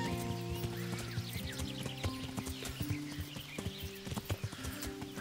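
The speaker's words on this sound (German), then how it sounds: "So, reiten wir mal hier entlang." Horse hooves clip-clop in a steady trotting rhythm while riding in the video game Kingdom Come: Deliverance, close and distinct over a layer of game music.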